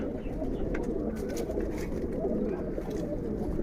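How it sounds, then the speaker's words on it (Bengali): Soft, low cooing of Kaldom pigeons at a large pigeon farm in Bangladesh murmurs steadily throughout, with a constant dense flock hum and no clear pauses. "এইখানে মাশাআল্লাহ আরো কিছু কবুতর আছে"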